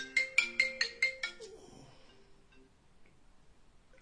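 A telephone ringtone chirps in a quick run of about six bright repeated pulses, fairly clear and close, then stops and gives way to a faint quiet room.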